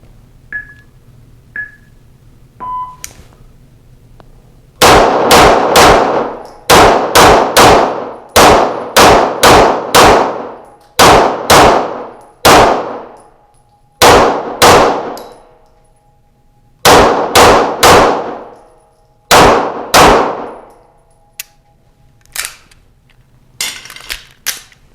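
A handgun fires repeatedly at moving steel targets, each sharp crack followed by a ringing metallic clang, about two dozen shots in clusters with short pauses, loud and close, after a few faint electronic beeps.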